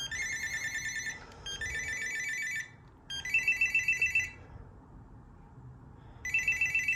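Panasonic KX-TG210 cordless phone ringing with its electronic ringtone, loud bursts of warbling melodic tones repeating in groups with short gaps between them, heard alone up close.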